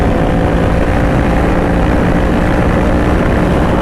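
A 2020 Honda CBR500R sport-touring motorcycle under opening throttle gives a loud, dense, continuous engine roar mixed with wind rush, steady and close, with no voices.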